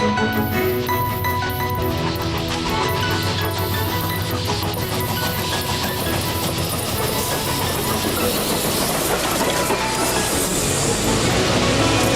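A steam train rumbles along the rails, a dense continuous clatter and mechanical grinding that stays loud and steady throughout.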